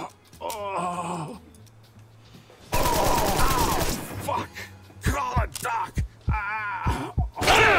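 Bursts of automatic gunfire in the video game Empire of Sin, a dense rattling volley crashing in midway, then sharp separate shots mixed with groaning game voices and speech.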